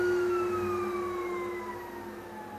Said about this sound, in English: The first thing the roaster is going to do is run the fan on high